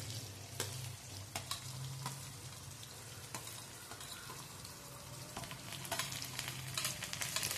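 Chopped onion and ginger-garlic paste sauté in a hot pan, a steady loud sizzle and fry with scattered crackles and spatula scrapes throughout, no voices.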